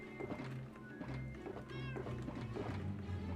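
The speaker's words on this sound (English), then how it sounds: "Why do I hear a cat?" Cat meowing in a Minecraft session on the 2b2t server, a few short rising cries over steady game sound and background noise.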